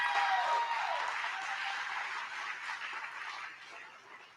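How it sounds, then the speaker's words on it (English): Steady audience applause at an awards ceremony for a documentary feature winner, dense clapping from a crowd that holds for several seconds and slowly tapers off. "I held for that applause"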